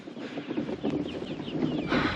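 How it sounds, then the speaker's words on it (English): Meat chickens on a homestead clucking: soft, repeated clucks and short calls from several birds, fairly close and moderately quiet, with no voices. "And of course we got the new meat birds up here."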